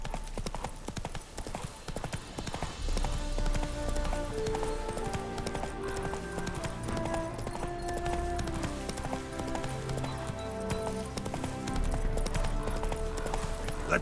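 Geralt's horse Roach in The Witcher 3 gallops with rhythmic, continuous hoofbeats, clear and close, under melodic game music.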